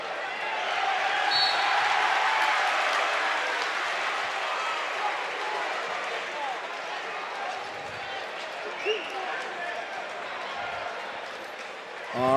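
A high school basketball crowd roars steadily in a gym, a broad sustained swell of cheering and clapping with scattered shouts, while an announcer talks over it throughout.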